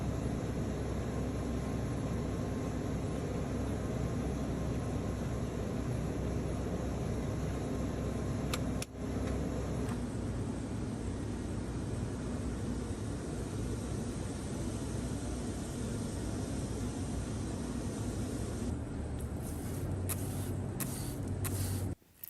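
A rotary wheel roughs up the claw of a horse's hoof, a steady, loud broadband grinding hiss that runs almost without a break, with a brief drop near the end.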